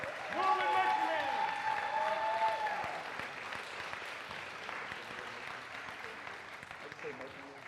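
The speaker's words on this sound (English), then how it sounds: "One more big round of applause for Norwood Marching Band." Audience applauding the Norwood marching band at a high school spring band concert, sustained clapping with some cheering and voices mixed in, loudest at first and gradually thinning.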